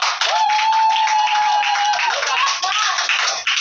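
A school audience at a Nigerian school advocacy event claps in a dense burst of applause lasting several seconds. A sustained high tone runs over it, and the clapping stays loud the whole time.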